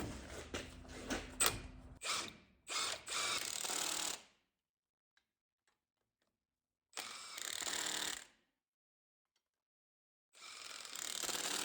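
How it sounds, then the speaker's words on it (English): Torque stick on an impact tool running down wheel lug nuts on a Dodge Ram, rattling in loud hammering bursts of a few seconds each, separated by silent gaps. "I'll run these down with a 140 foot-pound torque stick."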